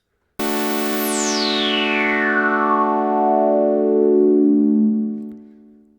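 Oberheim OB-6 synthesizer with its resonant filter swept downward and no self-oscillation: a sustained buzzy tone starts abruptly, a resonant peak glides from bright to dark over several seconds, then it fades out, loud and alone.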